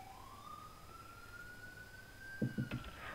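A single rising police siren tone in FiveM sweeps steadily upward and holds, followed near the end by a few short thumps.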